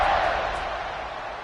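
Stadium crowd roar in the College Football 26 video game, a steady broadband wash of cheering just before a kickoff, loud and sustained throughout with no clear talk.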